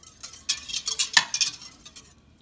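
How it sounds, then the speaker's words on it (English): Brief stir of milk in a pot with a spoon while making homemade yogurt, a few quick scraping, clinking strokes, moderately close and alone. "I'm just going to give my milk a quick stir"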